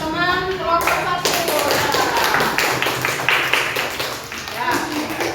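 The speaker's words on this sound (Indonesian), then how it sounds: "kita kasih aplaus untuk teman kelompok 1" A classroom group claps for a presenting team. Many hands patter in a dense, steady ripple over several seconds, with a voice speaking at the start.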